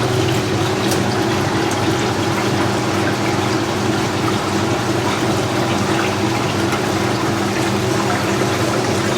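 Vintage Whirlpool and Maytag washing machines run loads of sheets, one with an original three-pad clutch, giving a steady, loud mechanical churn with sloshing water that continues unbroken throughout.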